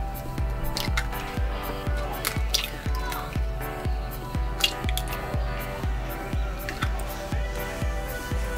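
Four eggs are cracked and dropped into cake batter in a bowl in an RV kitchen, giving a series of repeated wet squishing and plopping knocks at an even rhythm, close and fairly loud.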